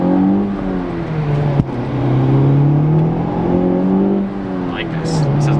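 Honda Civic Type R accelerating onto a freeway, a steady loud engine drone rising in pitch through the gears, heard from inside the car with no talking.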